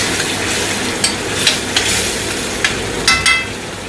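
Spoon stirring tomato puree into a chicken and peas casserole in a pot, a steady soft sizzle with a handful of scraping clinks spaced through the few seconds, close and fairly loud, no voices.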